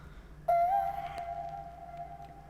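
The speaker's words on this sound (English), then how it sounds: "So I wanted to add these vocal samples that sounded like they were kind of sampled" A pitched-up vocal chop sample in an FL Studio beat, a single high, sustained, slightly wavering tone that bends up at the start then holds, fairly quiet over a soft background hum.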